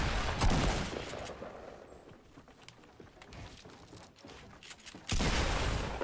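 Gunfire from a shootout in the Fortnite video game: sharp repeated shots and a loud burst, with another heavy volley near the end over general game noise, with no voices.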